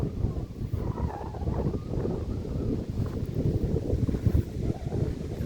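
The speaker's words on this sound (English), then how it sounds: "And the wind has picked up." Wind blowing outdoors in the Yukon near Watson Lake, a steady rough buffeting roar across the microphone with gusty surges, loud and close, no voices.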